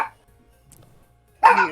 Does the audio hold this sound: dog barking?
yes